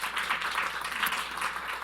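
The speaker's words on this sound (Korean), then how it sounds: "하나님 영광의 박수를 한번 돌리겠습니다" A church congregation gives steady applause, a dense wash of many hands clapping at a moderate distance, even in level and without talking over it.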